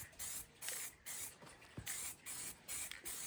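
Spray gun laying a quick first coat of paint on a Honda CRX under restoration, rhythmic bursts of close hissing spray separated by short pauses.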